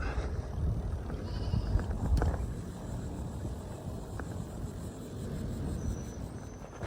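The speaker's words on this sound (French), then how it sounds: "Ah, et de la chèvre combative." Goat bleating somewhere in an outdoor setting among cactus, faint and partly buried under a constant low rumble of wind or motion noise, with a few thin cries rising briefly.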